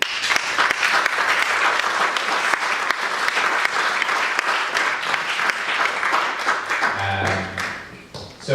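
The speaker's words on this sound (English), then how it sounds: "please give a round of applause to Mr. Andy Brown." Sustained audience applause at an evening book-publishing event in a theater, dense and even throughout before dropping near the end, with a low murmur of voices under the clapping.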